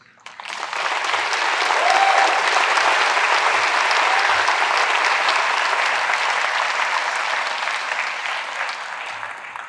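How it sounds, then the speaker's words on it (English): A high school graduation audience breaks into loud, sustained applause. The dense clapping swells quickly, holds for several seconds and then tapers off at the end. "We clapped afterwards."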